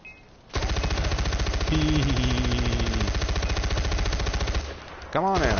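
Sustained automatic machine gun fire in the video game Far Cry 4, loud and close, running as a rapid continuous burst for several seconds before a brief pause and a fresh burst, with faint game sounds behind.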